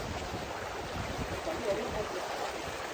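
Water rushes steadily at Ulakkai Aruvi waterfall, a broad, constant roar heard at a moderate distance and filling the whole stretch without pause.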